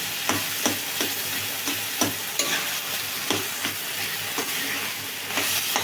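Taro leaves cooking in a pan while being stirred, a constant close sizzle broken by regular rhythmic scraping strokes of a spoon against the pan, with no voices.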